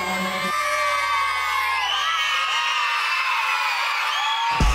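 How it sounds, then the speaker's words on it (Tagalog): A crowd cheers, whoops and shouts loudly and continuously during performances at the Talong Festival 2025 in Villasis, Pangasinan, with high excited voices, some of them children, packed close together. "Grabe ang palakpakan at hiyawan sa loob"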